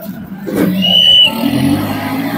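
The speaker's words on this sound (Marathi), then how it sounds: "ही पहिली गाडी चालू झालेली आहे." Off-road competition car starting its run at an off-road event, engine rising in a revving surge that peaks then settles into a steady drone, with voices over it.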